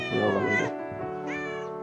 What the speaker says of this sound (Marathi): खूप गोंडस आणि खूप प्रेमळ मांजर आहे आमचं हे